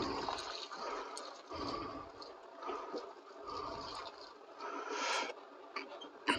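Boiling-hot water from a kettle poured over paper, a steady close splashing and trickling wash that surges and eases in waves for several seconds, with no voices.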